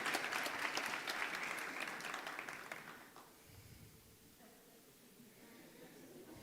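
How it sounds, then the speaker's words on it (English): Audience applause at an anti-corruption summit, steady clapping for about three seconds that fades into quiet room tone, with faint voices lingering underneath. "Give them another round of applause, and we are grateful for them."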